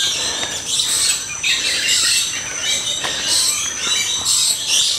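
Birds in the planted Papua aviary at Bali Bird Park chirp and call continuously, a busy chorus of high tweets and squawks, some close and bright, with no talking.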